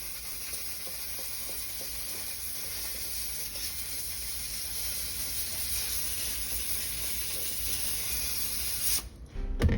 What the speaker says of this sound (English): I start out by moving the dirt around with my steamer